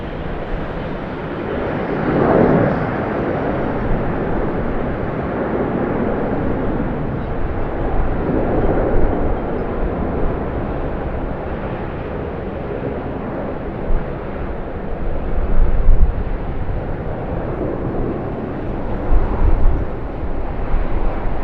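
A Qantas Boeing 737-800 at Sydney Airport in the afternoon gives off a broad, steady low roar with gentle swells, heard from a distance and accompanied by wind rumble.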